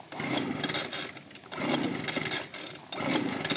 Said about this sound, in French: il a dégoté un souffleur. Je sais pas où et il est en train d'essayer de le démarrer